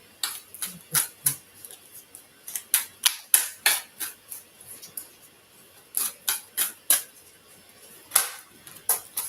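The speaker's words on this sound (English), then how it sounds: "Let's go ahead and shuffle." Deck of tarot-style oracle cards being shuffled, crisp papery riffles and taps arriving in irregular bursts of sharp clicks, close and fairly quiet with no voices.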